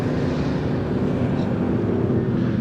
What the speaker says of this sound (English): the Camaros blitz past the Vauxhall Firenze